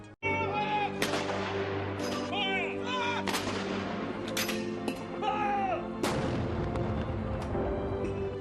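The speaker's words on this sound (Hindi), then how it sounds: "प्रिंस फिलिप की मौत के बाद ब्रिटेन से लेकर ऑस्ट्रेलिया तक उन्हें तोपों से सलामी दी गई।" Ceremonial cannon salute for Prince Philip's death fires several booming shots in sequence, each sharp blast ringing out and echoing across an open space, with crowd or background voices faintly present between rounds.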